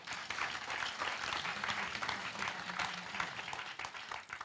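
A church congregation at a French-language Sunday service applauding: steady, fairly faint massed clapping that continues for several seconds with no speech over it.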